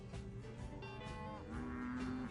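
Cattle on ranch grazing land moo in long, low, drawn-out calls, one after another, with a sustained lowing bellow toward the end; faint and unaccompanied by talk.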